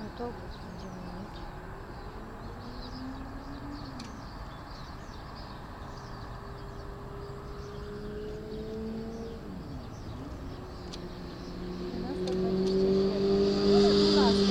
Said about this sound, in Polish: Autobus będziemy mieć.